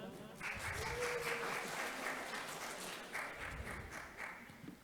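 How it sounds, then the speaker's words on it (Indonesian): Steady applause from a crowd at a Quran recitation competition, many hands clapping together in a sustained, fairly even burst that swells slightly partway through. "Tepuk tangan."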